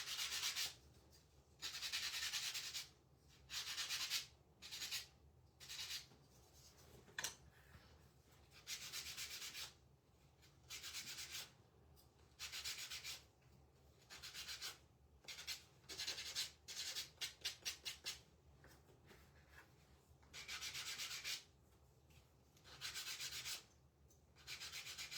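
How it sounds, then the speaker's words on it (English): Craft hearts for shabby chic Valentine decorations being sanded by hand, with repeated rubbing strokes in steady bursts separated by brief pauses, close and fairly quiet throughout. "got them all sanded back a little bit"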